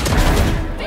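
Gunfire in the tactical shooter Valorant, a dense, loud, booming burst filling the whole short moment, heavy in the low end and fading slightly at the close.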